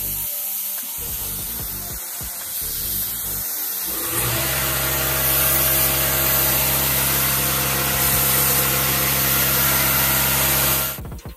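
An air compressor runs steadily and loudly in a workshop where a Harbor Freight spray gun is in use, its hum swelling at about four seconds and holding until stopping near the end.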